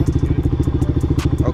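A go-kart engine idles close by, with a steady, rapid, thumping pulse and a loud, rough low-pitched tone. A brief rattle sounds near the end.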